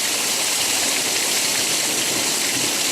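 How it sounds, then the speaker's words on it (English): Steady, dense rushing of rain pouring down, continuous and loud with no voices. "The sound of the rain back in."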